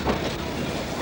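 A passenger train carrying Turkish migrant workers rolls along the rails, giving a brief, steady rumble with faint wheel clatter and no voices.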